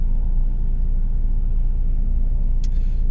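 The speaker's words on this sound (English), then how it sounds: "fire trucks just passed by." Heavy vehicles roar past on an autobahn, fire trucks making a loud, steady low rumble close by, with a brief hiss near the end.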